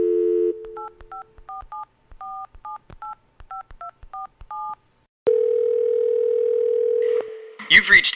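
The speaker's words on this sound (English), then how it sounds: "You pick up your phone, you dial the number" A phone's steady dial tone cuts off into a quick series of DTMF keypad beeps as a number is dialed, then a ringback tone holds for about two seconds before a voice begins.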